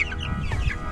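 Chickens cluck and murmur close by as a batch is carried over to a movable chicken tractor, a steady low flock chatter filling the short moment without talk.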